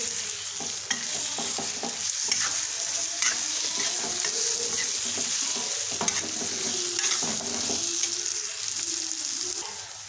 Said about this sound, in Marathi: आता मस्तपैकी आपण मिक्स करून घेऊ